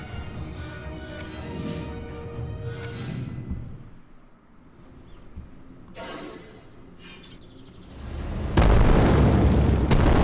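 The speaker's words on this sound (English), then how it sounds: "That was a strong explosion." An explosive liquid blowing up in the hidden-object game Amaranthine Voyage: The Burning Sky, with heavy booming blasts and a loud, broad final burst after a quieter stretch.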